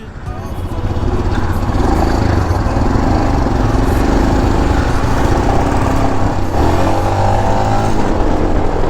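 A Royal Enfield Himalayan motorcycle on a test ride after repair of a burst belt pipe, its engine giving a steady, loud, continuous drone with a slight rise in pitch near the end, no talk over it.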